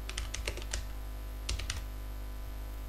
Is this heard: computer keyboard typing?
yes